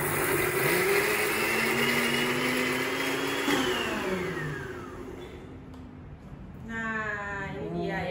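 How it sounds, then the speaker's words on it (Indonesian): A blender grinding chili and garlic whirs loudly, its motor pitch sliding as it grinds, then slows and stops; a voice speaks briefly near the end. "Sekarang kita blender cabenya."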